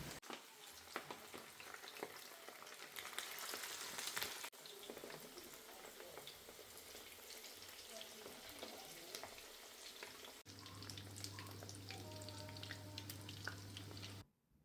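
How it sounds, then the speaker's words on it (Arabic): Stuffed sardines fry in hot oil, a steady close sizzle with crackling and faint scraping from stirring, continuing without speech and briefly joined by running tap water near the end. "معناها نسخن الزيت مليح ونقليهم من جهتين"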